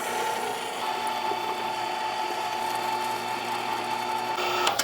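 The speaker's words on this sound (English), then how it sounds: "through the grinder we go. I got the small die on there" An electric meat grinder fitted with a small die grinding cold meat for corn dogs outdoors, a steady motor whine with a continuous mechanical hum and faint clicks over about five seconds.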